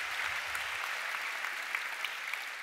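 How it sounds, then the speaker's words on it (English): Steady audience applause following a talk by an Ethereum co-founder on digital currency and blockchain, a dense even wash of clapping at moderate level with no voices over it. "Big round of applause."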